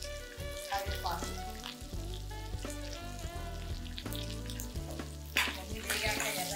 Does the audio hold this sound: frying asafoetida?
yes